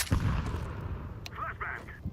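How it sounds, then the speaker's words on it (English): A flashbang grenade detonating in a competitive video game: a sharp blast with a booming tail. Muffled game sounds and faint voices follow. "Flashbang."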